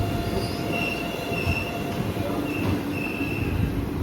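A Shivamogga–Tumkur passenger train pulls into Banashankari station, its wheels squealing high and steady over a dense rolling rumble of railcars, close and continuous.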